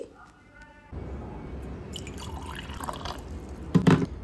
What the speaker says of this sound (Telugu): ఇప్పుడు ఇక్కడ వాటర్ పోర్ చేస్తున్నాను చూడండి